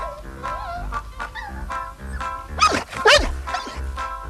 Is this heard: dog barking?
yes